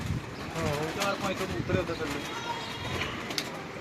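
Pigeons of fancy breeds coo at a breeder's loft, the soft throaty calls heard intermittently under close, steady conversation among several men.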